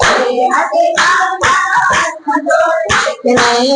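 Rhythmic two-handed clapping accompanies voices singing a Gujarati devotional bhajan, the claps falling in a regular beat close by and mixed under the singing.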